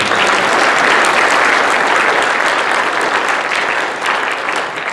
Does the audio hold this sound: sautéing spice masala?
no